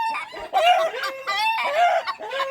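A hen being driven back into her coop clucks and cackles loudly and continuously at close range, with no talking.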